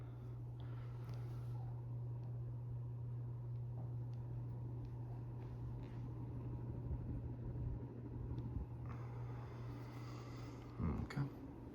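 A ceiling fan in a new house runs with a slight shake, giving a steady, even hum with a low tone and constant airy noise throughout, plus a few faint knocks near the end.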